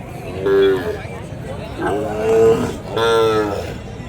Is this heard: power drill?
no